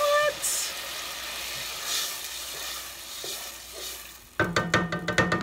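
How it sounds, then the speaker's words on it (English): Chicken broth poured into a hot pot gives a low steady sizzle and bubbling hiss throughout, joined near the end by louder rhythmic clinks and scraping. "Listen to a sizzle, baby."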